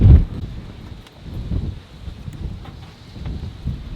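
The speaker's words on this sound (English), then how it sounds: "I read last night that it was going to be windy today." Low, gusty wind buffeting the microphone, rising and falling in soft rumbling surges with no voices.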